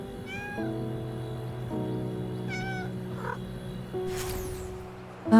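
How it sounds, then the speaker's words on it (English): Cat in the video game Silver Palace giving two clear rising meows close up, then a softer call, over low game music and ambient tones, with a brighter swishing effect near the end. "You can hold the cat with anti-gravity magic in Silver Palace."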